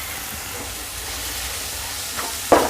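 Tomato, onion and chopped green chillies frying in a pan for egg bhurji give a steady close sizzle with faint stirring, ending in a sharper clatter of a utensil against the pan.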